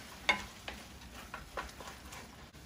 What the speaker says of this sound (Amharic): በርበሬን ጠበስ አደርገዋለሁ